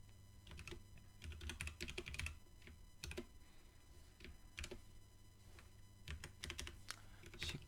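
Keys clatter on a computer keyboard in bursts of quick, close taps with short pauses between, faint and steady against a low hum, with no voices.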